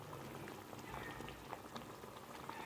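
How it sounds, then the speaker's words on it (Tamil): Fish curry (meen kulambu) with chili powder bubbling in a pan, a steady close simmer of small pops and fizzing bubbles running throughout with no voices. "இது ஒரு 5 செகண்டு அப்படியே கொதிக்கட்டும்."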